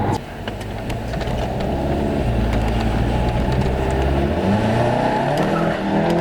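A tuned Volkswagen Golf 7 GTI with 359 kW and 750 Nm of torque accelerates hard in a loud, continuous engine roar with rising pitch through the gears.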